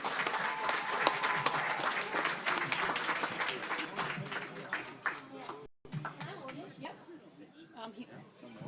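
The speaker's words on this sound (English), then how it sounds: "So can we please give her a big round of applause?" An audience at a 90th birthday celebration applauds in a dense, sustained wash of clapping that fades after a brief break, with some voices mixed in.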